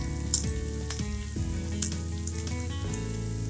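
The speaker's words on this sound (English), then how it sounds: "I have to fry this till the onion change the color" Onions fry in a pan with salt and turmeric, giving a steady, soft close sizzle broken by a few brief stirring scrapes.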